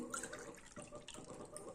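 Water pours into a pressure cooker holding washed red rice and lentils for sweet pongal, a close, continuous splashing and gurgling with small drips and no talking.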